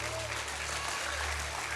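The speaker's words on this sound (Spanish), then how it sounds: "Si es aplausos para Cristo, déselo con fuerza." A church congregation applauds steadily and loudly throughout, with a low sustained tone underneath and a voice faintly present beneath the clapping.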